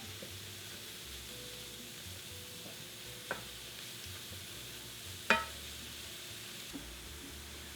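Mushrooms cook down in butter in a pan with a soft, steady, quiet sizzle, broken by a couple of sharp utensil clicks against the pan.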